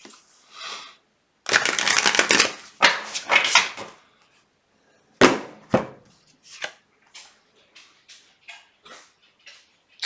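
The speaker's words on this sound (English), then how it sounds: "One more shuffle." Tarot cards riffle and slap together in a few quick bursts, then a run of softer, evenly spaced taps as they are squared or dealt, close by.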